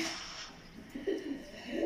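A Kasuri pigeon gives a few soft, low coos, faint and close against a quiet background hiss.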